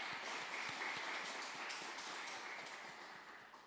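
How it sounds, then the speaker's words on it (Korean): Church congregation at a Wednesday worship service claps together in a steady burst of applause, fairly faint and distant, fading slightly toward the end. "박수 한번 하겠습니다."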